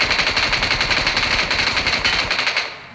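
Sustained automatic gunfire from the BGMI battle royale game, a rapid steady stream of loud shots for nearly three seconds before stopping abruptly at the end.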